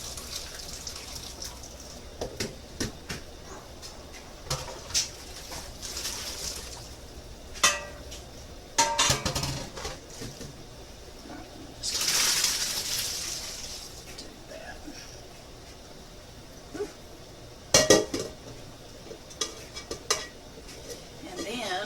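A big pot of cooked pasta is drained, with water gushing and splashing and pots and metal clinking now and then, mostly at a steady moderate level, while a voice talks at times.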